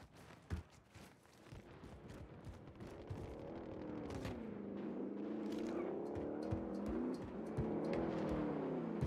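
A car driven in a shooter video game, its engine droning steadily and rising in pitch as it accelerates, with scattered gunfire cracks and clicks over the motor and no talk.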